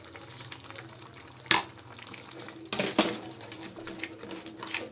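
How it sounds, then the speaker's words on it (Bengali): Ground spices stirred and fried in a pan while a Bengali egg korma cooks, a soft steady sizzle broken by two sharp scraping clatters of the spoon, quiet and close. "তার মধ্যে আমি দিয়ে দিলাম গুঁড়ো মশলাটা, দিয়ে সুন্দরভাবে আমি এখন এটা কষিয়ে নেব।"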